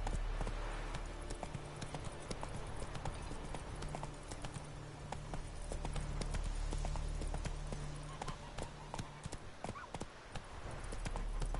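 Horse hooves clip-clop steadily through a Witcher 3 game scene, a continuous rhythmic trot under a low ambient hum with occasional faint background sounds.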